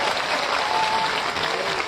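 Loud, dense applause from a crowd at an outdoor rally in Bikaner, honoring a farmer, a steady wash of clapping throughout with no pauses.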